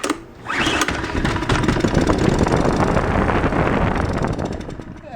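A small Honda generator engine from a scrap yard runs steadily and loudly after a brief sputtering start, with a continuous buzzing drone and wind buffeting on the microphone.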